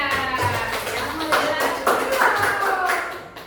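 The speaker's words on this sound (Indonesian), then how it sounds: "Tepuk tangan untuk kelompok 3." A classroom of students claps for a presenting student group, with sharp individual claps in a loose, uneven rhythm close by, mixed with children's voices chattering.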